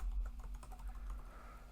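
Quick tapping on a computer keyboard, a short run of keystrokes at close range with no voice over it.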